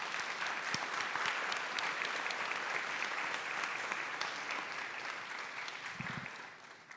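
A conference audience gives a steady round of applause that lasts several seconds before gradually fading out. The clapping is dense and continuous, with no voices speaking over it, and it marks the close of a speaker introduction at a forum.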